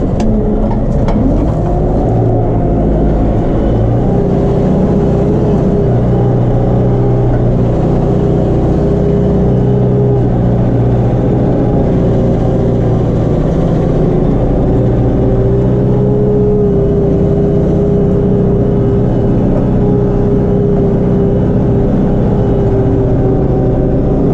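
A Case JX110 tractor engine drones continuously while tilling a wheat field, a loud, steady mid-pitched hum with a slight rise in revs early on, close and without talk.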